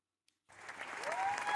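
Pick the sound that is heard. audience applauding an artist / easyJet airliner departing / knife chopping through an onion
audience applauding an artist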